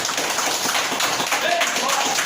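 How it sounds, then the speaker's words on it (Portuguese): During a church service, a congregation gives Jesus a vigorous round of applause. Steady, dense clapping fills the space, with faint voices mixed in underneath. "vai dando uma salva de palmas para Jesus bem forte"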